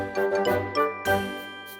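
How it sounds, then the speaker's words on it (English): Glass clinks in a kitchen: a few bright, ringing chimes in quick succession, close and clear, each tinkling strike decaying slowly into quiet. "glass"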